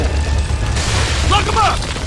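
A frag grenade blast in the video game Gears of War, a heavy low booming rumble that fills the clip amid gunfire and battle noise, with brief voice-like tones near the end.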